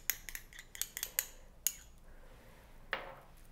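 A utensil clinks and taps sharply against a bowl while tuna is mixed with mayonnaise, giving a quick cluster of faint metallic knocks followed by a softer scrape.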